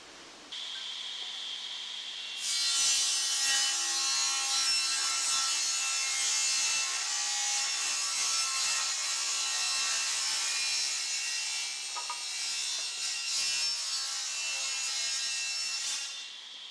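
A saw cuts 22.5-degree miters in wood frame pieces for a long plexiglass screen, a steady loud whining rasp that sustains for about fourteen seconds after a quieter start, with no talking.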